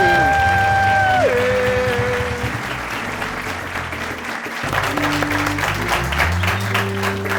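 A studio audience at a Macedonian talk show gives sustained, steady applause that fills the whole stretch, with a music jingle playing alongside the clapping.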